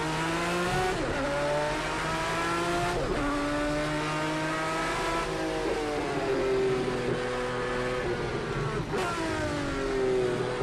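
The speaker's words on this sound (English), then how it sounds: "Just getting down the gears." A Group C race car in Project CARS 2 at the Algarve circuit drops down through the gears, its loud, continuous engine note falling in pitch with each shift.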